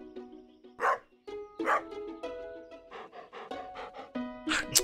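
A dog in the farming game Stardew Valley pants rhythmically with breathy bursts between short yips and barks, close and moderately loud over soft background game music.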